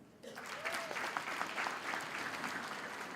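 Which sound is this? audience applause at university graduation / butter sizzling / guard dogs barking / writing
audience applause at university graduation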